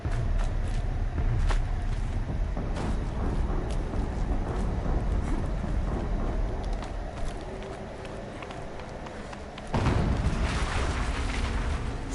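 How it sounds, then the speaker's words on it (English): A sudden, broad rumbling burst erupts near the end of a sustained stretch of rushing in-game noise and running footsteps in Horizon Zero Dawn, marking an explosion. "Another explosion."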